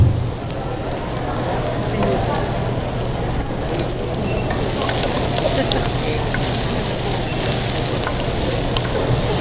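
Onion, ginger, garlic and fenugreek seed sizzle steadily in a pan for curry, a dense continuous crackle with a low hum underneath, loud and close throughout.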